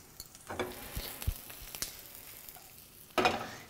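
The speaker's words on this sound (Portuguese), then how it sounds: "A minha cebola já está caramelizada, já tá frita aqui" Chopped onion sizzles in a hot pan as sugar is added to caramelize it for a gorgonzola hamburger; a quiet, sparse fry with a few scattered pops and a brief louder burst near the end.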